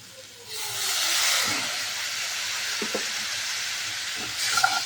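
Spice mixture with turmeric hisses and sizzles steadily in a hot pan as a little water is added and stirred in, a broad close steam noise with a few faint scraping taps.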